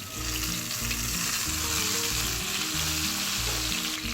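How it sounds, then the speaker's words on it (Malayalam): Steady, loud sizzling of black pomfret frying in hot oil over a low flame, a continuous crackling hiss with soft background music underneath. "ഇനി ഇതൊരു ചെറിയ തീയിൽ അത് രണ്ട് വശവും നന്നായിട്ടൊന്ന് ഫ്രൈ ചെയ്തെടുക്കണം"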